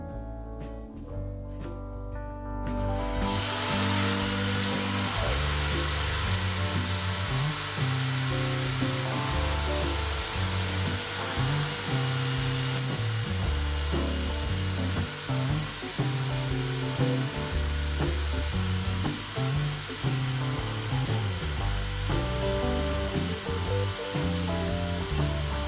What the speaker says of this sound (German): Ich habe mich dann auch noch entschlossen, die Löcher von innen ein bisschen auszuschleifen